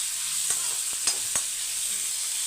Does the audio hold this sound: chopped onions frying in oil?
yes